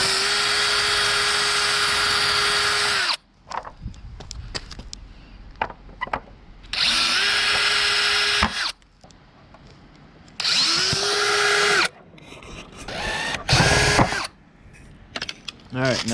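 A power drill enlarges existing holes in a side splitter being fitted to a 2015 Lexus RC F, running in several loud sustained bursts with quiet gaps, handling clatter and brief speech between them.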